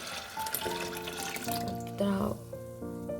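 Mixed sprouts washed under running water, a close trickle and splash from a tap into a vessel, partly covered by a voice talking over it.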